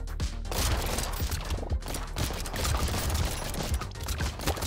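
Rapid automatic gunfire from a player's fully upgraded red guns in the video game Brotato, a dense, continuous stream of overlapping shots and impacts with no pauses.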